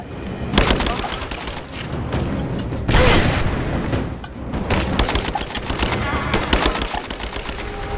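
Video game gunfire in Rise of the Tomb Raider inside mines, with dense bursts of automatic fire and booming shots repeating throughout, loud and sustained with brief lulls.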